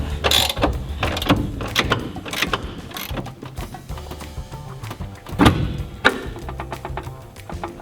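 Ratchet wrench turning an axle bolt on an Airstream trailer, irregular bursts of close metallic clicking and clanks separated by quieter gaps, with no speech.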